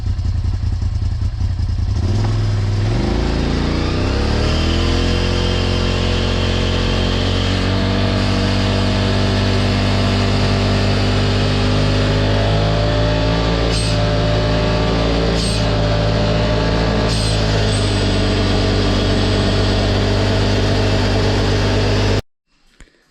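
Polaris RZR XP 1000 side-by-side engine running steadily up close, revving up as it pulls away, with a sustained drone, shifting pitch and occasional clatter and knocks over rough ground.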